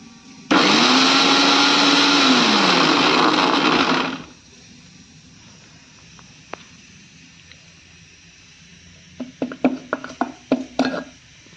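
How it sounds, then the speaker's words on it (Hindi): An electric grinder whirs loudly and steadily for about four seconds as it grinds dry ginger, then stops abruptly. Light rattling clicks follow a few seconds later. "ये अदरक को हम पीसने जा रहे हैं।"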